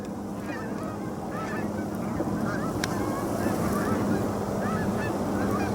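Many geese honk together in flight, a dense, continuous chorus of overlapping calls over a low rushing background.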